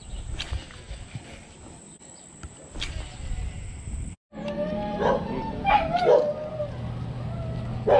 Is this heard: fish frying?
no